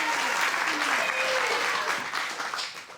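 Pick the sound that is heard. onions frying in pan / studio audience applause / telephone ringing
studio audience applause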